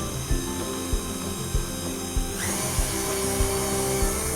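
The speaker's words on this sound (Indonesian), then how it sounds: "Adonan diuleni dengan mixer kira-kira selama 10 menitan." An electric stand mixer kneads bread dough for a soft braided loaf, a steady motor whir with a regular rhythmic thump about every 0.6 seconds as the dough slaps around the bowl, loud and close, with the motor tone brightening halfway through.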